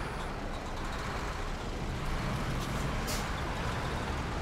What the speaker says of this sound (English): Your engine sounds like garbage.